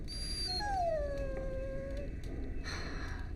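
A dog in the Dragon Age Origins video game whimpers and howls in a long, drawn-out whine that bends downward, close and clear with no talking, followed by a few softer whimpers.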